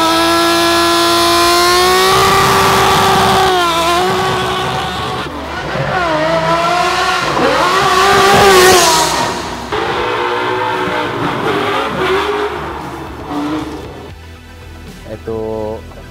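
Two drift cars running side by side on a mountain pass, their engines loud and close with rising and falling revs and harmonic whine over about sixteen seconds.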